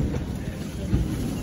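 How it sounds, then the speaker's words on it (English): An R46 G subway train running, a dense low rumble and roar of wheels on track filling the car continuously at close range, with no talk over it. "So today we're going to ride the R46 G train."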